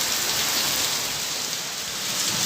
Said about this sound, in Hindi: बाहर जो बारिश है वो भी काफ़ी हो रही है